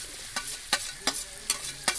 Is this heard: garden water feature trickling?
no